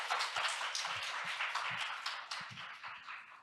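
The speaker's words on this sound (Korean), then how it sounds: "좋은 발표해주신 구본희 대표님께 큰 박수 부탁드리겠습니다" Audience clapping after a presentation at a fintech conference session in Korea, a dense steady patter of many hands sustained throughout, fairly close and moderately loud.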